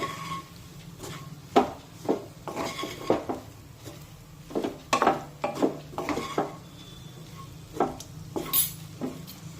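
Masala okra with besan being stirred in a pan, a spoon scraping and knocking against the metal in irregular close clatters, with no talk.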